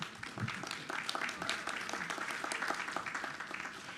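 An audience at a school board meeting gives steady, moderately quiet applause, with many hands clapping continuously for several seconds.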